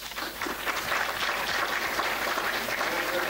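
Steady applause from an audience at a Cold War era citizen diplomacy event, a moderately distant, even patter of many hands that continues without pause, fairly soft in level.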